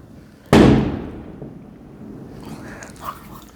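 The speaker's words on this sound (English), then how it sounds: "there's like people setting off fireworks outside." A single loud firework bang booms outside in Cuernavaca, Mexico, and rolls away in a long fading rumble, followed by faint distant crackles.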